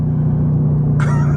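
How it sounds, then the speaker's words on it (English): A Chevrolet Camaro ZL1 engine blips in an automatic rev-matched downshift. Its loud, steady low rumble is close by and rises sharply near the end. "That's the auto downshift."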